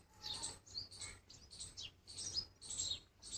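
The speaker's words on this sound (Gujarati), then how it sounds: "પંખીડા ઉડે હે રૂપારા" Birds chirping and twittering at a Gujarati farm on a sunny day, bright repeated calls in short bursts across the whole stretch, fairly close, with a low steady hum beneath and no talk.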